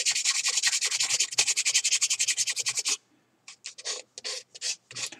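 Sandpaper is rubbed by hand over a Mandalorian prop in fast, even back-and-forth strokes, then a short pause and a few slower, irregular scrubbing passes, close and clear.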